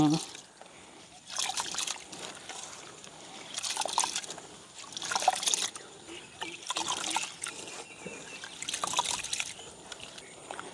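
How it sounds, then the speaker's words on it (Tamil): Lentils are washed by hand in water, making rhythmic swishing and sloshing bursts about every two seconds with trickles between, close by, while a voice speaks in the background. "நாங்கள் வடிவாக ரெண்டு மூன்று தரம் நாங்கள் கழுவி எடுப்போம்"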